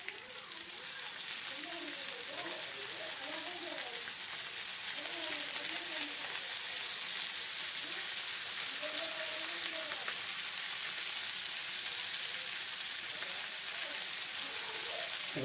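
Tilapia cutlets in a semolina (rava) coating fry on a hot tava, giving a steady, close sizzle that runs throughout with faint voice-like tones underneath.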